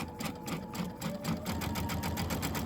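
A sewing machine runs steadily as its needle stitches through fabric, a quick, even mechanical chatter with rhythmic pulses, close and moderately quiet, with no talking.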